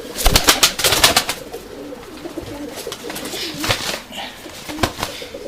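Urfa Arab pigeons of one bloodline coo softly and steadily nearby, opening with a quick flurry of wing flaps and scattered flutters later on.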